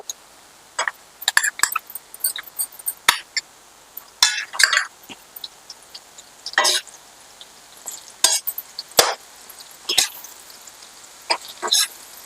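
Gongura leaves are stirred into a frying pan after turmeric goes in, giving sparse scraping and clinking strokes of a utensil against the pan, with quiet gaps between and a faint sizzle.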